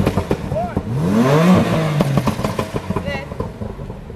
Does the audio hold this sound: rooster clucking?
no